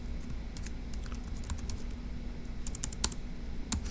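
Quick, light keystrokes on a computer keyboard while entering an answer in a logic-puzzle game, with irregular soft taps and a few sharper clicks over a faint steady hum, and no speech.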